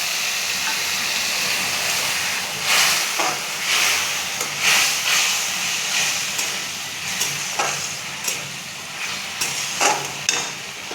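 Ginger paste with a little added water sizzles and steams loudly in a pan while cooking a thin singi fish curry with potol and potato, a constant close hiss with intermittent stirring scrapes.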